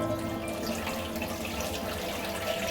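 Black gram lentils rinsed and rubbed by hand under a running tap, a close, steady stream of splashing water with small sloshing and dripping sounds throughout.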